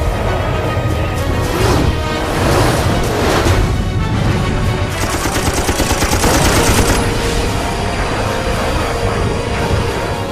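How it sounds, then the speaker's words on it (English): Rapid, dense bursts of .50 caliber armor-piercing incendiary machine gun fire rattle continuously and loudly, striking a MiG's aft fuselage during Korean War air combat with an F-86. "50 caliber armor-piercing incendiary rounds slam into the MiG's aft fuselage."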